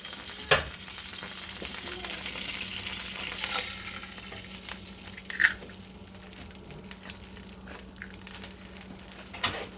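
An egg sizzles and fries steadily in a hot pan, a continuous close crackle with a few sharper pops and clicks scattered throughout.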